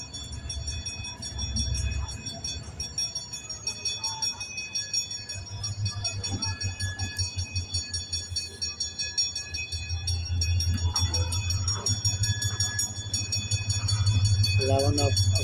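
Pakistan Railways HGMU diesel locomotive with EMD power hauling the Hazara Express, a steady loud throbbing engine drone with rhythmic wheel clatter that builds toward the end, heard alongside background speech.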